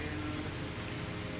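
Steady rain falls in the noir stealth video game Calvino Noir, a constant dense hiss of drops on hard surfaces that stays even and unbroken throughout, with no voices over it.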